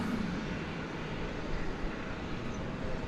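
An MD airliner at DFW Airport at night produces a steady, broad jet roar that holds at an even level throughout, heard from a distance with no voices.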